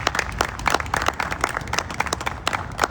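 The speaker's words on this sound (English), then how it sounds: "That deserves a round of applause," Crowd clapping at the Shoelace Park groundbreaking, a brisk outdoor round of scattered hand claps with uneven rhythm, fairly close and moderately loud.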